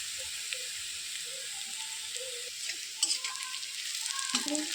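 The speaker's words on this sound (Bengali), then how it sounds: "পেঁয়াজটা ভাজা হয়ে গিয়েছে" Onion fries in a pan for a mutton and potato curry, a close, even sizzle with occasional spoon scrapes and a few louder crackling bursts toward the end.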